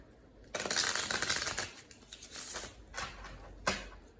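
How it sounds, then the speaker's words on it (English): Tarot cards riffle in a long, crisp burst, followed by several shorter shuffling flutters and soft taps, close by with no talking. "we'll do one last shuffle."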